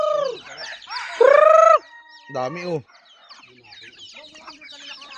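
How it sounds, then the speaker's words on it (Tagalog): Chickens cluck loudly and close by while they are being fed on a rural farm, and a rooster gives a crowing call. A person's voice briefly sounds among the birds. "mga manok."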